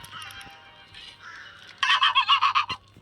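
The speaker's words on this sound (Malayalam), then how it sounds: "കാക്കകളൊക്കെ നിലവിളിക്കുന്നു." Crows cawing inside the Granny video game, a burst of several loud, rapid harsh calls in quick succession after quieter background bird sounds.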